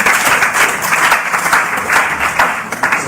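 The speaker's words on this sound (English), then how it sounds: "let's give a round of applause once again" Loud close audience applause at a live event, brisk dense clapping with slight swells in intensity throughout.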